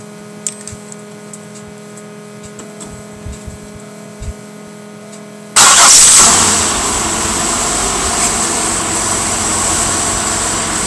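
1998 Oldsmobile LSS with a 2.8 engine cold-starting by remote starter: a few faint clicks, then the engine catches abruptly and settles into a steady, loud idle.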